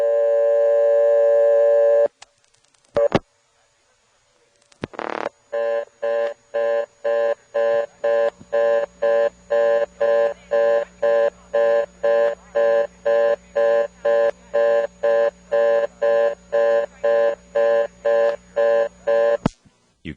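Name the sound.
reorder tone from blocked step-by-step second selector, GTE exchange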